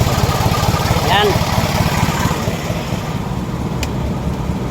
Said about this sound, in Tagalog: Maraming connection o maraming dahilan kung bakit nabublow by sa loob po ng makina